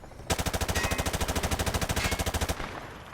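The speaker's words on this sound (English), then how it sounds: "He sprayed bullets all over the damn place." Fast, evenly spaced automatic rifle fire at targets on a training range in Call of Duty MW2, a long sustained burst of loud rhythmic shots that stops abruptly and leaves a fading tail.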